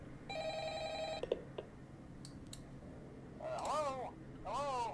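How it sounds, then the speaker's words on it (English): A telephone rings in the Five Nights at Freddy's video game, one bright electronic ring followed by a few clicks, then a voice talks over a low steady hum. "Night 2 begins with a shorter phone call."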